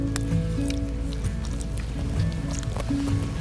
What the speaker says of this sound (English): And knead it properly.